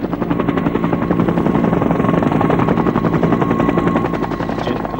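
Military-style choppers lining up for a low run over a table-topped landform at Lemon Tree Passage, rotor blades thudding in a steady, loud, close throb with constant engine whine and no voices.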